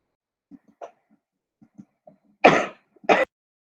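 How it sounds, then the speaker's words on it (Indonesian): A person with a lingering illness coughs twice, sharp and close, after a few faint breathy throat noises and small mouth sounds in an otherwise quiet room. "Jadi kalau ngomongnya terlalu banyak nanti tiba-tiba batuk lagi."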